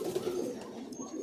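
A Giribaz pigeon sitting on white eggs in a home loft gives a soft, low, continuous coo, brief and fairly faint, with no voices over it.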